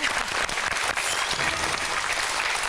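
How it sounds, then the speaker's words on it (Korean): A studio audience on a television talk show breaks into sustained, dense applause that stays loud and even throughout. "박수를 한번 들어볼까요?"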